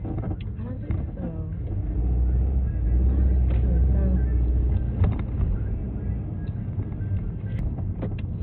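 A New Orleans trolley rolls along with a steady low rumble and hum, a louder swell midway and faint squeals and clunks, while people talk throughout.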